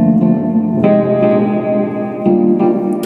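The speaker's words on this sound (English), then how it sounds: "switch off the reverb." Nord piano playing electric piano sounds with reverb, sustained chords that change a few times, loud and close, with washy tails ringing between the changes.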